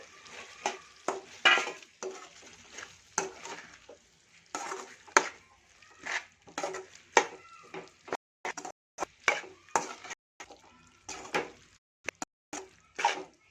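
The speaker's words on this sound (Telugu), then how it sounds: "ఎగ్గునైతే కలిపేసినాము." Beaten eggs stirred by hand for homemade egg noodles, a brisk run of close, rhythmic tapping and scraping strokes that starts and stops in short bursts, with no talk.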